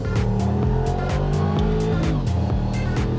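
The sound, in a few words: car engine roaring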